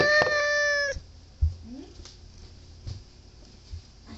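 A cat gives one clear, close meow lasting about a second, followed by quiet room noise with a few soft knocks and small shuffling sounds, while someone is preparing dried bonito flakes as a treat for it.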